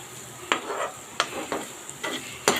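Green chilies frying in hot oil, a steady bright sizzle broken by several short stirring scrapes and clinks, close and without talk.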